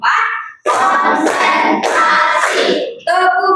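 A class doing hand-clapping rhythm cheers, several close, loud bursts of clapping in quick patterned groups, separated by short pauses and ending in a fresh cluster.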